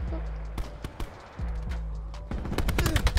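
Black Ops 4 gunfire: several sharp, close shots crack out in short bursts, ending in a rapid string of shots, amid game effects with players talking over the action.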